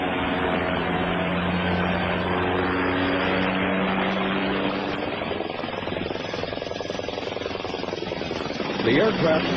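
A US Army Black Hawk helicopter flies aerobatic maneuvers, its loud, steady rotor and engine drone holding throughout with a low harmonic hum that shifts slightly in pitch as it moves.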